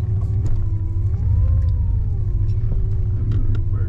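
A 1987 Chevrolet Monte Carlo SS idles with a steady, loud low rumble while reversing, the engine note rising and falling slightly with a faint whine over it.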